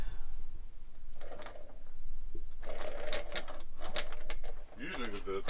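Metal pushrods from a 454 Chevy engine roll across a flat table, giving a clattering, ticking rattle in uneven bursts, close by, with people talking over parts of it.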